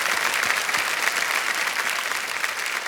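Studio audience on the Hindi quiz show Kaun Banega Crorepati Season 14 bursts into dense, even applause for a contestant winning 25 lakh rupees, a continuous wash of clapping at steady volume with no talk.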